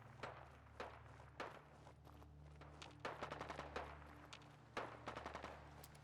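Gunfire in the Fallout 4 video game crackles in bursts of rapid shots and single cracks, moderately distant and fairly faint, repeating over about six seconds with no talk.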